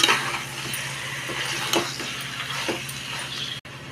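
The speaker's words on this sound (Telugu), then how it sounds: "ఒకసారి చికెన్ అంతా ఇలాగా కలిసేలా కలుపుకోవాలండి." Chicken stirred into browned, softened onions in a hot pan, with a steady sizzle and scraping spoon strokes close by, continuous for a few seconds before a brief cut.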